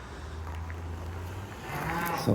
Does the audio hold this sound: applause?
no